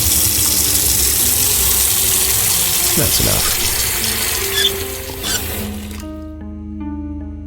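Water gushes steadily into a container for a lung float test during an autopsy scene in the game Autopsy Simulator. The rush continues for several seconds, then cuts off and gives way to soft tonal game chimes, with a brief spoken remark.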